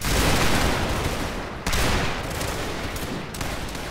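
Massed musket volleys crack out in the Napoleonic Wars mod of Mount and Blade Warband, a loud dense fusillade rolling through the first second and a half, then a second sharp volley bursting out and echoing away.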